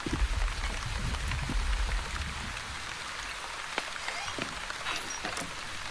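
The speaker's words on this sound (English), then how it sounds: "I always love the sound of the rain." Steady rain in the video game The Wandering Village patters softly, with scattered drops ticking on surfaces and a low rumble fading early on.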